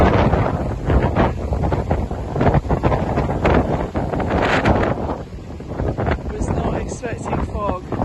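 Strong wind blasting across the microphone near the sea, a loud continuous rumbling buffet with brief gusty swells throughout.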